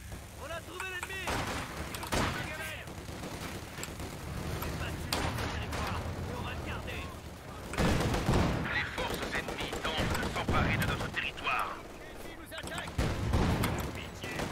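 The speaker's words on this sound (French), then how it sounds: "Tir de barrage du ZIS au mid sur la maison" A ZiS gun artillery barrage in a 1v1 tournament strategy video game lands on a house, with repeated booming blasts and crackling impacts in clustered bursts while commentators talk over the gunfire.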